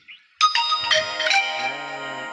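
A phone's message notification tone rings out: bright layered chimes begin after a brief quiet, then a steady electronic tone sustains and slowly fades, heard alone.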